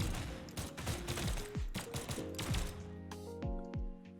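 Gunfire in the video game Brawlhalla rattles in rapid bursts of dense, punchy shots mixed with game effects and falling tones, loud and continuous for several seconds before thinning out.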